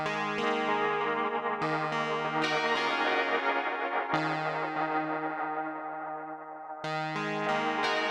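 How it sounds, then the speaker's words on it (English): A Hologram Chroma Console with its drift parameter adding dropouts colours played tones, which sustain and decay with distortion and echo, the level sagging and thinning before new notes return, moderately quiet and without voices. "Sounds like the drift parameter adds dropouts."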